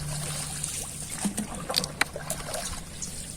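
A rowboat moving across a wetland lake, with close splashes and knocks of oars and the hull over trickling water and light wind.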